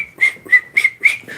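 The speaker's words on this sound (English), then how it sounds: "that guy we saw out there whistling out of his nose" A man whistles through his nose, four short, close, shrill tones in an uneven rhythm, heard alone without talk.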